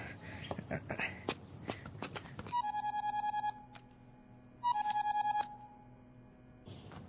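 A phone ringtone from a Telugu comedy-thriller film's climax scene plays two loud, bright trilling bursts after some movement and voices, with a low steady hum underneath.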